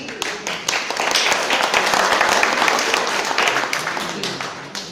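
Loud, sustained applause from an audience at a Women's Day event with a political speaker, dense clapping holding steady for the whole stretch before easing slightly at the end.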